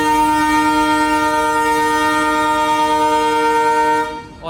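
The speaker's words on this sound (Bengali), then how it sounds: "অলরেডি হুইসেল দিয়ে দিল আর ট্রেনটি এখনই যাত্রা শুরু করবে" The Ovijatri Commuter train sounds its whistle at Mawa rail station before departing, one loud, sustained, steady horn blast lasting about four seconds before cutting off abruptly.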